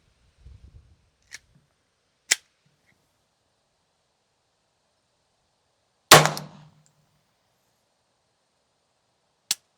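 A Glock pistol fitted with an Advantage Arms .22lr conversion kit fires unsuppressed: a few sharp, isolated cracks spaced seconds apart, one louder shot with a short ringing tail, and near silence between them.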